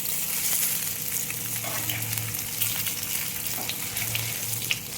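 Fish frying in a pan of hot oil, a steady close crackling sizzle with fine bright spatter running throughout, loud and continuous with no voices.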